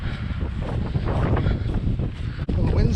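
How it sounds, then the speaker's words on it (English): Wind gusting on an open Peak District hillside walk near Castleton, a loud steady buffeting roar across the microphone with rising and falling gusts throughout. "the wind's getting up"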